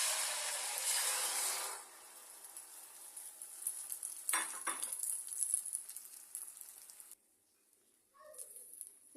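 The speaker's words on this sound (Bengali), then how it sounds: "দিয়ে দিলাম তেল। ফেটানো ডিমটা ঢেলে দেব।" Beaten egg hitting hot oil in a pan, a loud burst of bright sizzling that fades over a couple of seconds, followed by fainter crackling and a few spatula scrapes, then a near-silent pause and more light frying, close up without voices.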